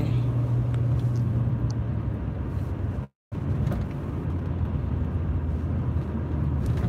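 Steady road rumble from inside a car driving through Washington, DC streets, continuous and fairly loud with a brief dropout midway.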